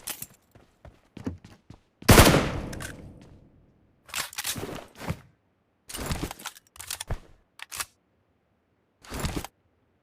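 Gunfire in PUBG Mobile during a squad fight in Severny, a loud initial blast with a ringing tail followed by scattered short bursts of shots separated by silent gaps.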